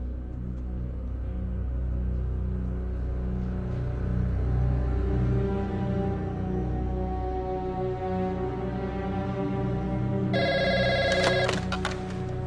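A telephone rings steadily and loudly for several seconds with a continuous bell-like trill, and a sharper ringing tone cuts in near the end.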